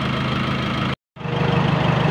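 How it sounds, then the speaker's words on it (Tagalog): Nissan Navara pickup engine idling smoothly after repair for a rough-running and overheating fault, a steady low even drone, close and loud, with a brief full dropout before resuming at the same level. "makikita nyo na nawala na yung panginginig ng makina"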